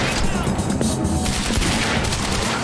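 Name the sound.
sniper gunfire in video game Quantum Break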